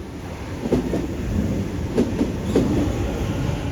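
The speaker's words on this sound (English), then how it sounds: "let's get our train towards Leppington" A Sydney train heading toward Leppington rumbles steadily along the rails, with faint rhythmic clacks of the wheels over a constant low roar.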